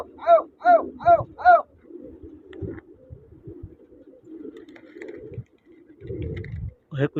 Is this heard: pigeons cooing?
yes